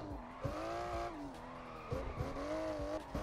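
In the No Hesi driving game, a car drifts with sustained tire squeal and skidding, its engine droning as the slides repeat in loud, wavering bursts.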